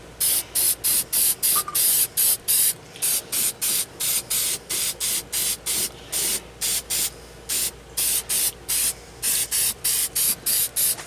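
Aerosol spray paint applied over a repaired dent on an old painted surface, about two dozen short rhythmic hissing bursts in quick succession, close and loud, no voices.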